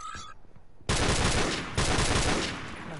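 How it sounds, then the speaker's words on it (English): Rapid automatic gunfire from the online shooter Modern Warfare Remastered, two loud, dense sustained bursts close up after a brief quieter moment. "God damn it, I missed all those shots."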